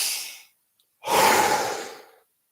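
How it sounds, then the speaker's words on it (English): Two long, deep breaths, a short airy intake followed after a pause by a louder, drawn-out nasal inhale, close and alone in a quiet morning meditation setting. "we'll take deep inhales through the nose."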